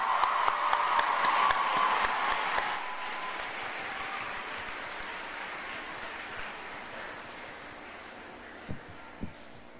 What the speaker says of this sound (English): Can we have another round of applause for the language department?